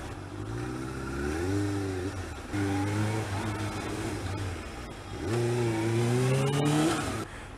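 Motorbike engine pulling through rush-hour traffic, revving up in three rising surges with brief easing between them, close and steady with no talk.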